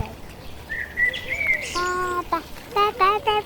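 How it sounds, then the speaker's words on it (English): Several birds chirp and sing in short tonal phrases, fairly close, in a forest with a quiet outdoor background and faint voices of children nearby. "Listen how the birds are singing"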